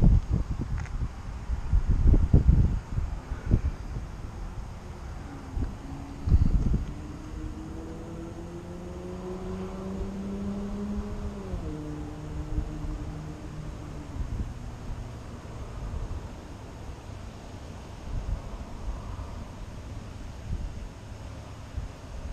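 Wind buffets a microphone outdoors on a very windy day, a steady broadband rush with gusty thumps early on, and a faint rising whine from a drone's motors in the middle.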